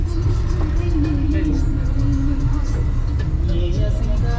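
A packed bus driving in Sri Lanka gives a loud, steady engine rumble with road noise and some revving, while people talk over it.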